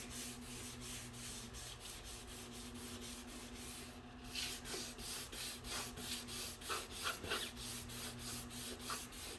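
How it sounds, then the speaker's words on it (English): Steady rhythmic rasping of sandpaper scrubbing a plastic rear fender of a 2016 Jeep Cherokee, repeated back-and-forth strokes that grow slightly louder and more distinct in the second half. "When it's still rough, you can feel and hear the coarseness of the sandpaper underneath."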